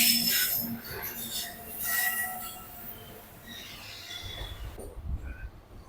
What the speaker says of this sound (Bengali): আমাদের ট্রেনটা এখন বিধাননগর স্টেশন ছেড়ে দিল পরবর্তী স্টেশন দমদম